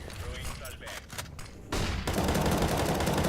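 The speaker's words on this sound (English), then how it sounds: "Pre-firing through the smoke, good idea." Close, rapid gunfire from pre-firing through a smoke grenade in the video game CS:GO, bursts rattling continuously and loudly, growing denser and heavier midway through with overlapping shots.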